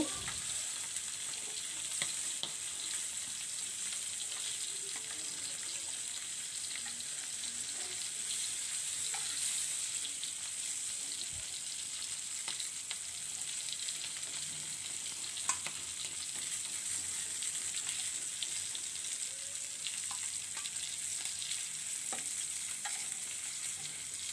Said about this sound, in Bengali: তো মাছগুলো ভাজা হয়ে গেছে, এখন মাছগুলো আমি উঠিয়ে নিচ্ছি